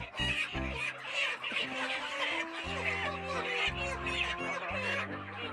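Chickens on a village farm being caught by hand and packed into boxes for a lorry to the meat shop, giving out a steady chorus of close clucks and squawks with music-like tonal calls running throughout.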